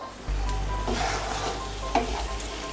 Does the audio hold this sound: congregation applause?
no